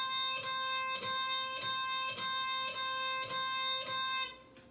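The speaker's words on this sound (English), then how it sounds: "if you want to do alternate picking, once the pick is below the string, you can bring it back up." Alternate picking on a guitar string with a pick produces a quiet, steady run of evenly spaced picked notes, about eight strikes over a ringing tone, fading at the end.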